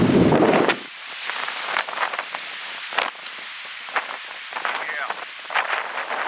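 Gusts of wind sweep through trees during a windstorm, a loud rushing burst at first, then softer rustling surges and scattered crackles that swell and fade, with a voice speaking briefly.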